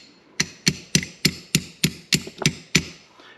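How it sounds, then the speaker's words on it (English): A brass hammer taps a barrel bushing about ten times at a steady, quick rhythm, each strike short, sharp and close, with no talking. "there's no harm in just giving it a light tap. You notice I use a brass hammer."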